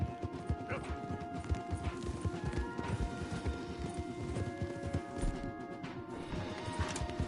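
Horses galloping in Red Dead Redemption 2, a rapid dense clip-clop of hooves on a trail with occasional snorts, loud and continuous, with game music or ambience underneath.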